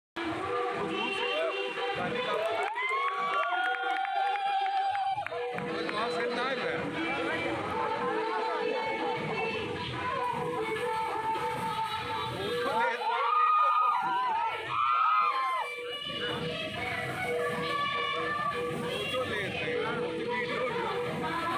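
Wedding garland ceremony crowd cheering and clapping, a dense, lively wash of voices, shouts and applause with children's cries that swells in bursts and holds steady throughout.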